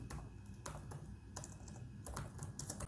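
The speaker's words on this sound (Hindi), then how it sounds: "मैं कोई एक लाइन लिखता हूँ" Computer keyboard typing in short bursts of quick clicks separated by brief pauses, close and fairly quiet, with no voices.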